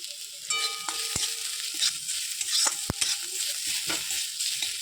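Onions fry toward light brown in a hot pan for chow mein, with a bright continuous sizzle, several sharp utensil clinks and scrapes as they are stirred, and no talking.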